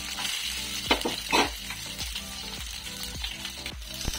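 Food frying on low heat in a pan gives a steady close sizzle, with repeated stirring scrapes and clinks, one every half second or so, and no talking.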